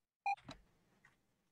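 An electronic beep sounds once, short and fairly loud, during a tabletop board game session, followed by faint clatter and a brief murmur.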